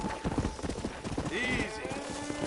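Horse hooves clip-clop at a steady walking rhythm in the Western video game Red Dead Redemption, close and clear beneath a voice talking.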